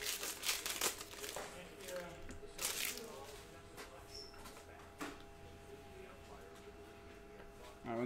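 A 2020 Panini Prizm Baseball trading card pack is torn open and its foil wrapper crinkled in quick bursts, close and fairly quiet, followed by softer handling of the cards.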